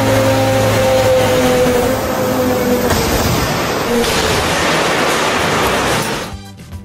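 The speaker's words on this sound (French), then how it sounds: "ce type a décidé de faire démarrer un hélicoptère à l'intérieur" A helicopter engine starting up indoors in a museum, a loud broadband turbine roar with a steady whine and low hum that runs for about six seconds before cutting off.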